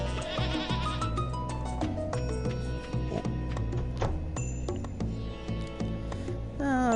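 Goats bleat several times in the farming video game Stardew Valley, short wavering cries over light game music, fairly clear and close.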